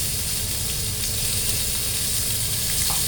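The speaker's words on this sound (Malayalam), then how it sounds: "നമുക്ക് ഇച്ചിരി മസാല ഇതിനകത്തോട്ട് ഒഴിക്കാം." Masala sizzles as it is poured into a hot pan of frying fish, a continuous close, moderately loud crackling hiss with faint stirring and no talking.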